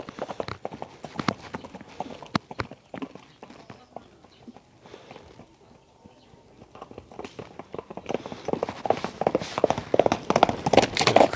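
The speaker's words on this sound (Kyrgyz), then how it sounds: "Экинчи аттын күлүктүгүн байкаңыздар." A fast racehorse gallops over ground, hooves pounding in quick irregular clip-clops that fade slightly mid-way then grow louder and denser as it nears, with faint voices in the background.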